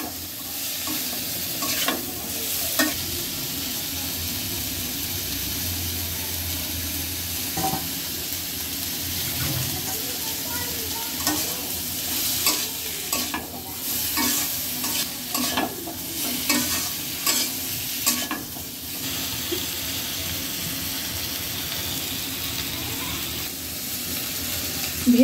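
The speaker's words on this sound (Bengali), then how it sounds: "সব মশলা কষিয়ে নিল, মানে এগুলো দিয়ে দিব। সব কাঁঠাল দিয়ে নিচ্ছে।" Jackfruit pieces are stirred through sautéed spices in a frying pan: a continuous sizzle runs under repeated scraping and stirring strokes, with faint splashy water-like sounds at times and no talking.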